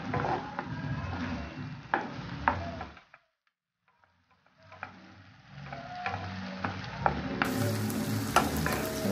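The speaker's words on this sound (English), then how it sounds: "these are the cooked shrimp already. I'm just cooking them for before I put in my vegetables." Cooked shrimp frying in a pan for a vegetable stir-fry with lo mein, sizzling and scraping bursts with sharp clinks of stirring, dropping to near silence midway before the sizzle resumes.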